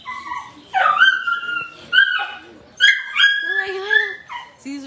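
Several dogs tied up at an animal clinic in Tzununa whimper and yip up close in a run of high, wavering whines and short cries, with a voice speaking among them.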